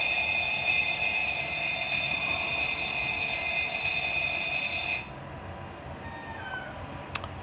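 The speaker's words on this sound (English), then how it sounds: "Next thing we're going to test is make sure that the alarms are working." Cockpit warning alarms blare during a flight simulator test, a steady high-pitched tonal tone sounding continuously for about five seconds before cutting off sharply, leaving quieter background hum.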